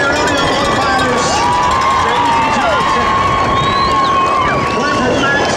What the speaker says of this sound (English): how about a round of applause for the rodeo bullfighters?